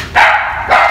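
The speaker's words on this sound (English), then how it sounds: "excuse me, that's my dog again" Two sharp, loud dog barks close by, about half a second apart, in an indoor room at a crafting table where an electric sander is in use.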